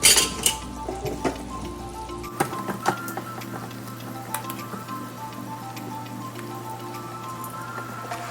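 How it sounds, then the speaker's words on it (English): Crab dropped into a pan of simmering spicy chili sauce, with a few sharp knocks and splashes up front, then a steady soft bubbling and sizzle that continues quietly. "Now I am going to put the crab."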